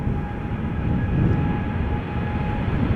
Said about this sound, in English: Dreamliner coming up.